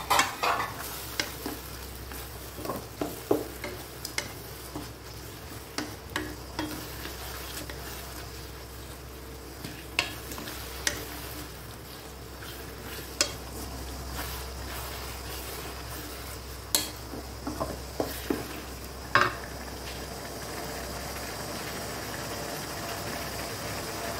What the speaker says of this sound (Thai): ใส่น้ำมันหอยค่ะน้ำมันหอยลงไปใส่หมูกรอบค่ะหมูกรอบลงไป